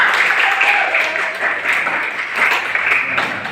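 Classroom clapping during an Indonesian lesson, a steady wash of hand claps from a group of students, moderately loud and close, rising and falling slightly over a few seconds.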